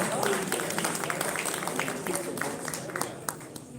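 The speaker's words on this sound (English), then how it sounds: "Please give them a round of applause as I welcome them" A room of guests at an executive business dinner claps steadily in a soft, continuous wash, with a voice speaking over it.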